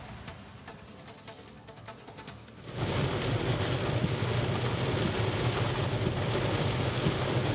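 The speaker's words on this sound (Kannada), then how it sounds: "ಯಲಹಂಕ ಭಾಗದಲ್ಲಿ ಮಳೆ ಜೋರಾಗಿ ಬಂದಿದೆ" Heavy rain falls in the Yelahanka area of Bangalore. The quiet background jumps suddenly into a loud, steady, close downpour that roars on without pause.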